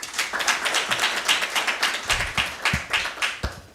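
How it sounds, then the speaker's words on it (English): Clapping from an audience at a university moot court competition in Kenya, moderately loud with distinct individual claps standing out in an uneven rhythm. "Another warm round of applause."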